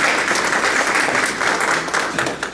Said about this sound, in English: So let's give her a big round of applause for taking her attention.